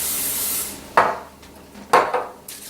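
Cooking spray hissing from a can onto hands in a kitchen, a long spray at the start followed by two sharper bursts of spray and a faint short one at the end, close and clear with no talking.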